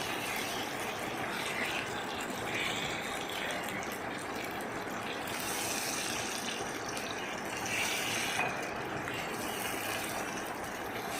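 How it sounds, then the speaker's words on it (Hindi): Water poured from a glass into a pan of frying taro and potato curry cooked in ghee, giving a steady loud sizzling hiss and gush that swells and eases over several seconds, with no talk. "1 गिलास पानी हम इसमें ऐड करेंगे।"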